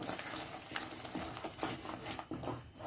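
Dried nei meen fish thokku sautéed and stirred in oil in a pan, a dense steady sizzle with scraping stirs over the top, close and continuous.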